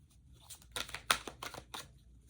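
A deck of tarot cards being shuffled close by in a string of quick riffling bursts of crisp papery slaps, the loudest near the middle, with no voices.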